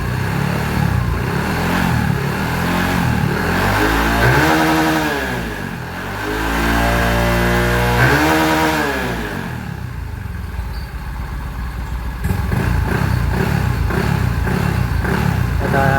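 A Yamaha Mio i 125 scooter fitted with a 28mm throttle body and running without its pulley revs hard up to the rev limiter in repeated rising and falling surges, then settles into a loud, rough idle close by.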